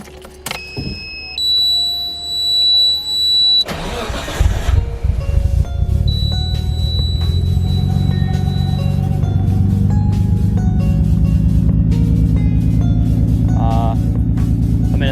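A Nissan R33 is cranked over and fires into life; electronic chimes and beeps come first, then the starter churns briefly before the engine catches and settles into a loud, steady, rumbling idle that carries on alone.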